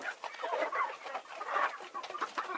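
A flock of farmyard chickens clucks continuously at close range, calls overlapping in a busy, uneven chatter with nobody speaking.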